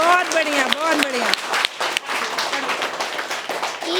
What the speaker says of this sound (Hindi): सोनी के लिए तेज से ताली बजाओ पहले, अच्छे से